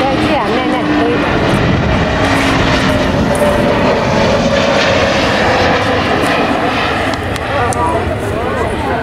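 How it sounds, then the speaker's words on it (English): An Aegean Airbus A320-271N makes a low flyby at an Athens flying-week air show, its engines roaring loud and sustained overhead for the whole stretch. "Είδαμε ήδη το Airbus να απομακρύνεται δυτικά, θα συνεχίσει για μια επανακύκλωση"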